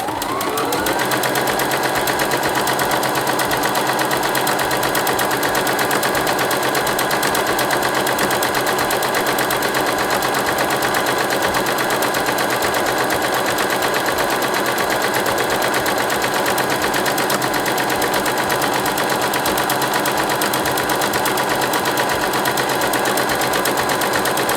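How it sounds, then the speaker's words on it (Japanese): A sewing machine stitches a T-shirt in one long unbroken run, a fast, even, close mechanical chatter that stays loud and steady throughout with no voices. "このまま最後まで縫います。"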